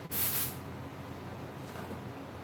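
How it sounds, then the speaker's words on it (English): A short burst of spray glue hits mask fur, one brief hiss at the start fading into quiet room noise, close and faint. "Just go in and spray"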